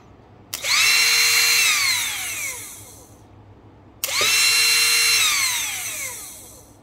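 An electric motor powered by an 18650 battery pack runs under load in two bursts of about three seconds each, and each burst has a sharp start, a loud high whine and a falling pitch as it slows down.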